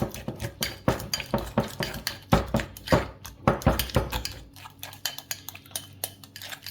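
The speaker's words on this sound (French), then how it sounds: "on va écraser à la fourchette pour lui apporter un petit peu" A fork mashes avocado in a bowl for a salmon-avocado bagel filling, with rapid repeated clinks and scrapes of metal against the dish, close and busy, then slower taps.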